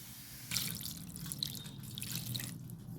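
Roasted white radish being washed in water, with dripping and splashing liquid like a running tap over a sink, a steady wet wash with a few brighter splashes close by.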